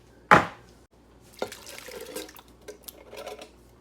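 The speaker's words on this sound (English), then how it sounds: "we're gonna toss in a 28-ounce can of diced tomatoes." Diced tomatoes from a 28-ounce can tip into a pot with one loud wet slop, then a softer spell of sloshing and spattering that tails off and stays faint.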